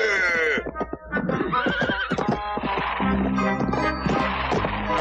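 Cartoon horses whinny loudly over rapid galloping hoofbeats in an old animated Western, the neighs and clip-clop layered densely throughout.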